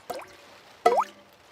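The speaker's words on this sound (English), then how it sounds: "It is raining and the school roof is leaking again." Two separate drips fall from a leaking school roof on a rainy day in a cartoon. Each lands as a clear, close watery plop with a short pause between them.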